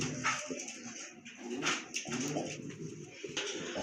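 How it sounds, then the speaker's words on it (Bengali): Pigeons of several breeds kept at a seller's loft coo in soft, overlapping throaty bursts, close by and fairly steady, with some rustling and no speech. "আজকে কিন্তু ভাইয়ের এখানে সব ডিফারেন্ট ডিফারেন্ট টাইপের কবুতর রয়েছে"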